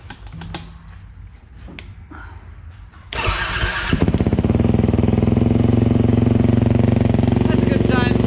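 A Yamaha YZ450F dirt bike fitted with a WR fuel tank cranks briefly, then fires and settles into a loud, steady idle at close range after some quiet shuffling and talk.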